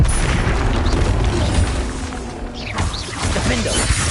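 Confringo and Bombarda explosion spells in Hogwarts Legacy go off in quick succession, loud booming and crashing blasts packed tightly together with a brief dip in the middle.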